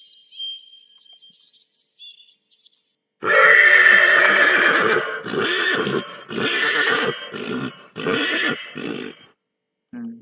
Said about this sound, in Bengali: ও ঘোড়া নিয়ে নিচ্ছি একেবারে